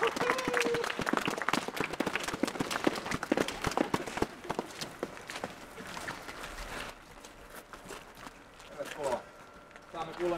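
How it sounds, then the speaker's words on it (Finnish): Scattered audience applause for a first speaker, uneven and fairly close, with voices talking and calling out across it as the clapping tapers off. "Annetaan aplodit ensimmäiselle puhujalle."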